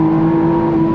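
A 2025 McLaren Artura Spider supercar's engine revving hard toward 8,500 RPM, a loud, close, sustained mechanical howl with a strong steady pitch and no voices.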